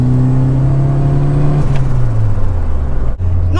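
Mk3 Ford Fiesta RS Turbo accelerating on boost, its engine a loud, close, steady drone from inside the car, with the pitch easing slightly before a brief dip near the end.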